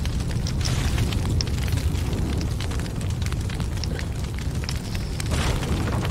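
Burning fire after a small gas tank blast in Fortnite, a steady loud crackling roar with scattered pops throughout, no voices.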